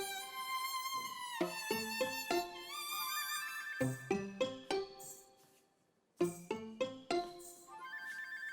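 A telephone ringtone plays loudly and close, a bright electronic melody that sounds out in repeated phrases and breaks off briefly before it starts again, with no talking over it.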